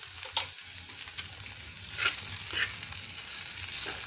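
Okra pieces tossed with red chili powder in a pan, a low steady sizzle with a few sharp scraping stirs, fairly quiet and with no voices.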